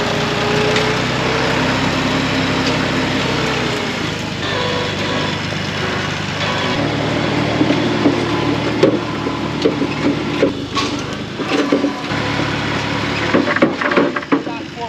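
A four-wheel drive vehicle's engine runs steadily and loud through the whole stretch while trails are cleared, with knocks and rattles over the top and a voice talking now and then.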